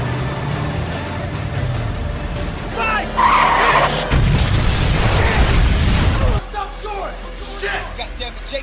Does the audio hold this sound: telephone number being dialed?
no